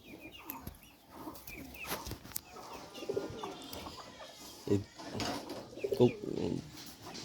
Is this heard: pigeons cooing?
yes